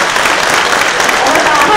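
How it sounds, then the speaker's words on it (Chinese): A conference audience breaks into loud, dense applause at a lightning talk session, sustained and close for the whole brief moment. "大家掌声鼓励一下"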